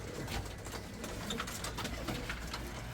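Young white pigeons coo and flutter inside a coop in Kırıkkale, with soft bird calls and wing sounds scattered over steady background noise.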